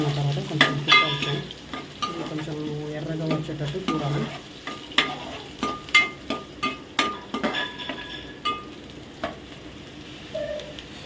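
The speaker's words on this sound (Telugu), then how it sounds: "తర్వాత కొన్ని ఆనియన్స్ వేసుకోవాలి ఆనియన్స్" Onions fry in a pan for a traditional fish curry, a steady sizzle broken by repeated spoon scrapes and clinks against the pan, close and clear, with no talking.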